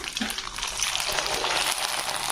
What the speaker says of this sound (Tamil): எண்ணெய் காஞ்சிடுச்சு, அப்பளம் போட்டு எடுக்கலாம்.